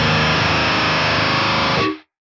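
Electric guitar run through a Boss DS-1 distortion pedal with tone all the way up and distortion all the way down, a dense buzzsaw-like chord ringing loud for about two seconds and then cut off abruptly.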